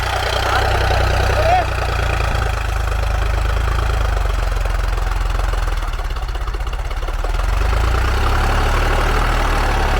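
An Eicher 333 tractor engine pulls an 11-tine cultivator during a field demonstration, giving a loud, steady low-pitched drone that runs unbroken through the whole stretch.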